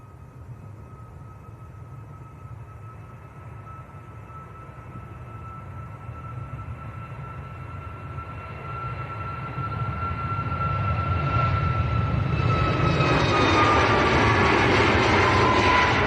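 A SunExpress airliner bound for Antalya rolls for takeoff at Manchester Airport, its jet engine roar heard from a distance and rising steadily from a low rumble to a louder, brighter whine.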